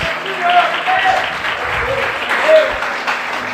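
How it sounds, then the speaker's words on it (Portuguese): A church congregation claps steadily and enthusiastically, a continuous wash of applause with a voice speaking over it. "Aplaude o Senhor bem forte, aleluia."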